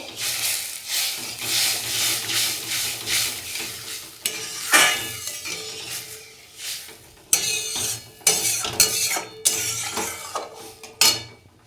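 Semolina with water cooks in a pan for gujiya filling, with a scraping, stirring sizzle broken by sharp clinks of a spoon against the pan, close and fairly loud, with no talk.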